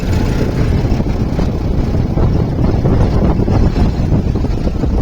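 Strong wind buffets the microphone in a loud, continuous low roar with gusty fluctuations and no talking.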